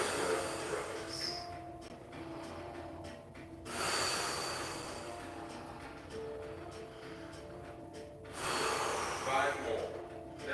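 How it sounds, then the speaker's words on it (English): Deep, circular breathing during a yoga session, with long, loud, airy inhales and exhales repeating in slow waves, close to the microphone. "Nice, deep, circular breaths."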